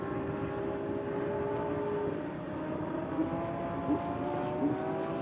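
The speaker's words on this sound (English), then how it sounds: "as he tries to find the right moment to apply the throttle to try and get well clear of Andrew Haryanto" A race car powers out of a hairpin at Sepang during the 2023 Sepang 12 Hours endurance race. Its engine drones steadily and slightly muffled, with a pitch that climbs gradually and a few small bumps.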